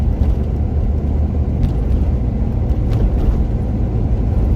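A 1986 Chevrolet C10 pickup truck's engine runs at a steady idle, a loud, close, continuous low rumble with no talking over it.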